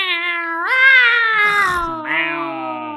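People imitate cats with long, drawn-out vocal meows, loud and close, the voices sliding in pitch in two sustained phrases.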